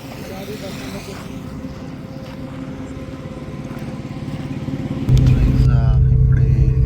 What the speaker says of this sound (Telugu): ఇప్పుడే మళ్ళీ బస్ స్టార్ట్ అయింది.